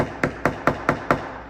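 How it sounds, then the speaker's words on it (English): A hammer drives a screw into a wooden door sign through burlap, giving six even, sharp knocks in quick rhythm, close and fairly loud, with no talking. "hammer it in first"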